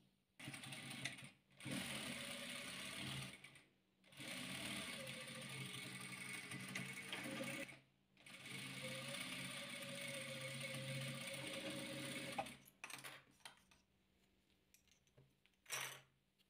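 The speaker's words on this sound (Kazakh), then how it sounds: "Осы 2 шаршымызды тігіп аламыз." A sewing machine stitches two fabric patchwork quilt squares together, whirring steadily in long close runs broken by brief pauses, then a few short bursts near the end.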